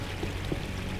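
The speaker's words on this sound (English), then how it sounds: "that waterfall's coming down" Waterfall in the video game Unreal, a soft steady rushing pour of falling water, continuous and fairly faint throughout with no talk over it.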